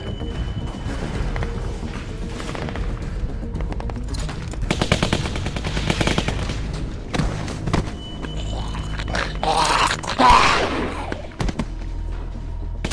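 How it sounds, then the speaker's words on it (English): Automatic weapons fire in rapid, loud bursts during a shootout in the video game The Walking Dead 2, the chattering volleys broken by heavy thuds and brief pauses across the scene. "They've got automatic weapons."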